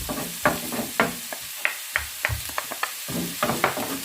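Garlic and ginger are tossed into a hot pan of pepper chicken stir-fry, giving a run of sharp sizzling bursts and scraping stirs in an irregular rhythm, close and fairly loud.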